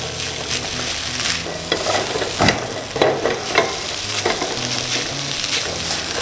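Crab fried rice being stir-fried in a Thai wok, with steady loud sizzling and frying hiss broken by sharp scrapes and clanks of the spatula against the metal, continuous and close with no talk.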